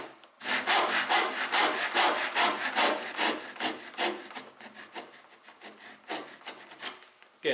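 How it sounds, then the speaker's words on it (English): A hand saw cuts through wood for a cross halving joint, with steady back-and-forth rasping strokes, close and loud, slowing slightly toward the end, with no talking. "you would saw two or three saw cuts through the middle"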